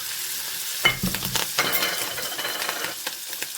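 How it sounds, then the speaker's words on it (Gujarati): Chopped green beans tempered in hot oil with chillies and sesame seeds, giving a steady close sizzle with a few sharp ingredient drops and stirring clinks, no talk. "તો એને વઘારી લઈએ"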